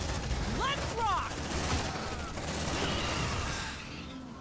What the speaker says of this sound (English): They're shooting down my turrets faster than I can place them.